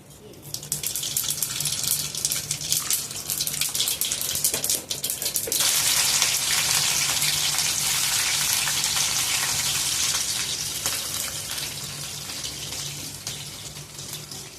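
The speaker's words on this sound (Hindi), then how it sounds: "अब मैं लगाऊंगी इसमें सरसों के दाने के तड़के।" Mustard seeds tempering in hot oil with chillies on a home stove give a loud, steady sizzling hiss throughout, strongest and densest in the second half with a faint low hum beneath.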